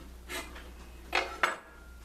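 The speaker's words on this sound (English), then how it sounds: "Cut these in half." A knife cuts mozzarella sticks in half on a kitchen board, giving three short, light taps and clicks spaced about a second apart, close by with no talking.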